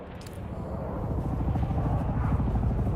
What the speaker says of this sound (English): That sounds like a helicopter.